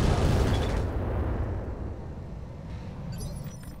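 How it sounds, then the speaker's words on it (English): Full weapons salvo from a mech in the Roguetech BattleTech game: a loud explosive blast up front that rumbles and decays over a few seconds, with faint crackling debris near the end. "Firing a full salvo."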